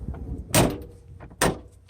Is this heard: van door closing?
yes